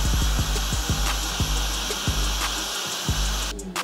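A barber's hair dryer set on low and its coolest setting blows over a client's hairline during a high taper cut, giving a steady, loud, continuous whooshing hum with a few faint clicks and no talking.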